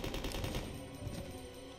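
Sustained automatic weapon fire in the video game Resident Evil Code: Veronica X, dense repeated shots rattling continuously at close range with no voices.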